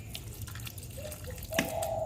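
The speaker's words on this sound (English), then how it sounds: "So now I'm going to add this water to my jasmine plant." Water is poured from a container onto a potted jasmine plant, mostly soft drips and trickles with one brief splash near the end, quiet and close with no talk.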